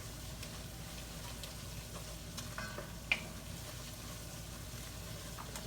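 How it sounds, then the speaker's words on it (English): Flour being stirred into oxtail sizzling in a frying pan: a steady, soft hiss of frying with faint scraping strokes, close and quiet throughout, with one brief sharp clink near the middle. "Then we're gonna stir this in. Just all mixed in, get that flour taste cooked off in there."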